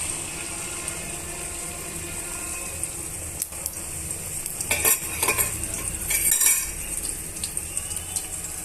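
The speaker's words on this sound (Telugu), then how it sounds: "నూనె బాగా కాగిపోయిన తర్వాత బీట్ చేసిన ఎగ్స్ని ఈ నూనెలోకి వేసేసుకోవాలండి" Beaten eggs tipped into hot oil in a pan for egg noodles, a steady sizzle with a utensil stirring and clinking against the pan, loud and close.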